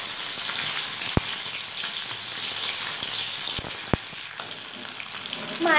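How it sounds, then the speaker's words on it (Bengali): Snakehead fish (shol) fry in oil in a pan, a steady bright hiss of sizzling close by with a few sharp clicks and clatters of a utensil, the sizzle dipping and softening near the end. "মাছগুলো দিয়ে মাছগুলোকে আগে ভালো করে ভেজে নেব।"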